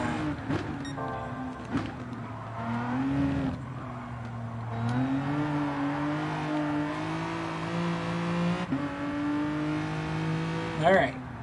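Race car engines, including a Nissan GT-R and BMW M6s, rev and drone in the Gran Turismo racing game, pitch rising and falling steadily, with a brief sharp rising whine near the end.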